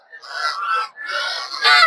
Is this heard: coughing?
no